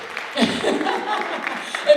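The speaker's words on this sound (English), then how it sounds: "let's give them a big round of applause" A school audience gives applause for performers on stage, a moderate burst of clapping that stays fairly steady and mingles with faint voices.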